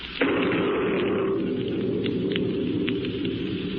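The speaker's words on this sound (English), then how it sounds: "It can't rain any harder than this." A heavy downpour sound effect from a 1940s radio comedy drums as a dense, steady hiss, with a sudden onset and no voices over it.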